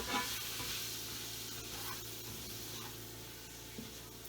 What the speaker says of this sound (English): I do want to stir it around so my garlic doesn't burn